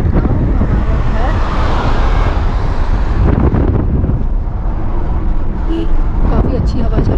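Strong wind rushing past a microphone outdoors on a road on the way home near Nainital, a loud continuous roar of buffeting with a faint distant vehicle tone, no speech over it.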